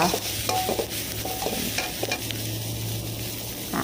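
Loud, continuous sizzling and scraping of Thai herb chili paste being stir-fried in a hot pan for spicy mussels, with steady crackle and occasional utensil clinks, no voices.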